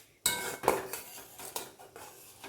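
A metal spoon clinks and scrapes against a pan while dried fenugreek leaves are stirred into a pointed gourd curry, a few sharp close knocks followed by quieter scraping strokes, no talking.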